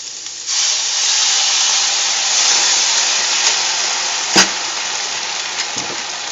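Water hits a hot pan of sautéed garlic asparagus and bursts into a loud, steady sizzling hiss of steam that holds for several seconds, with one brief sharp clink partway through.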